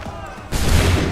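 A musket volley in Assassin's Creed 3 erupts in one loud, sudden blast after a quiet, tense moment, then rolls on as a dense, sustained roar of firing close by.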